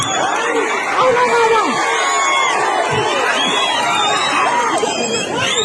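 A crowd at an election campaign rally shouts and cheers in a dense, loud, unbroken wall of many overlapping voices.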